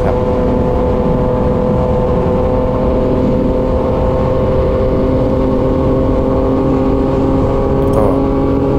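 A Yamaha MT-09 motorcycle under hard acceleration, a loud, close and continuous engine roar holding steady across the whole stretch.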